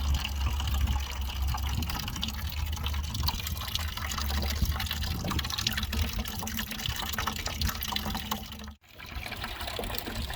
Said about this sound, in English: Got my hose down in the radiator. Let that run for just a little bit.